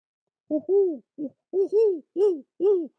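A person's voice imitates an owl, giving seven close, loud hooting syllables in quick uneven pairs, each a rounded rising-and-falling tone, with silence in between.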